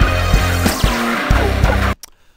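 A modern rock bridge with pounding drums, thick bass and driving guitar plays loud and dense, then cuts off abruptly into near silence.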